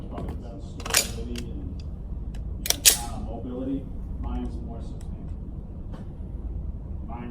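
Sharp gunshots from a Sig Sauer P320RX Compact pistol on a shooting range, two distinct reports about two seconds apart with a faint earlier crack, heard under steady background noise and some talking.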